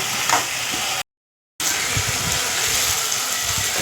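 Chopped tomatoes and onions fry in a pan for a tomato thokku, a steady close hiss of sizzling that cuts out briefly partway through.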